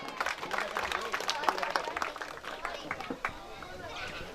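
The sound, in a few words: loud applause welcoming a guest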